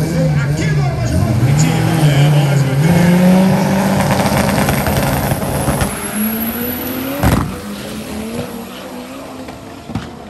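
Subaru race car accelerating hard and sliding sideways at the Armageddon 2021 drift event, its engine note rising and falling up close, then fading as it moves off, with crowd and announcer chatter underneath.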